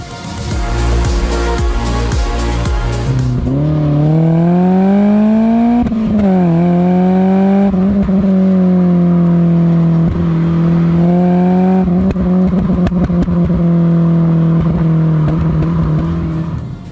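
A BMW M3 E30 drives hard with its engine loud and close, dropping from a high rev to a steady strong drone that rises and falls through gear changes and throttle shifts, with no talk.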